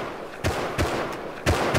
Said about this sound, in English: I heard a lot of gunshots.